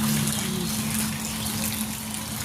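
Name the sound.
floodwater from heavy rain flowing into temple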